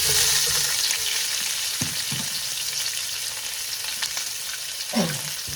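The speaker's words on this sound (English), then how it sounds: "I'll start off by stir frying the bell pepper first" Loud, steady sizzling of bell pepper stir frying in hot oil, with a few soft scraping clanks of stirring.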